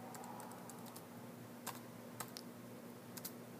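Quiet clicking on a computer keyboard while a password is entered, with a few isolated keystrokes spaced irregularly over a low, steady background hum.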